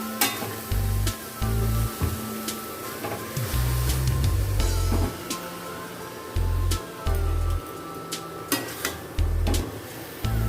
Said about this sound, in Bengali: আস্তে আস্তে করে জাল দিয়ে নাড়তে নাড়তে এভাবে শুকিয়ে নিতে হবে।